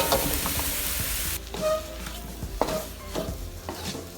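Mashed potato being stirred into sautéed leeks in a pan for tin fish cutlets, with soft sizzling under scraping spoon strokes that come in irregular pushes, close and fairly loud, no talking.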